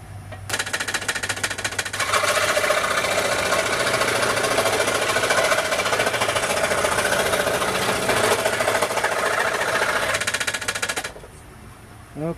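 A quarter inch is cut off the end of a wooden Native American flute to retune it: a loud, steady buzzing cut runs about ten seconds and then stops, with no talking.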